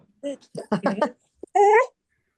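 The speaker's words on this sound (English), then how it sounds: "there goes my dog" A dog whimpers and yips in short, close, high-pitched bursts, finishing with a longer whine, with no talk over it.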